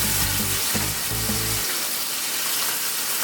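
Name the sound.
pork chops frying with honey, soy sauce and vinegar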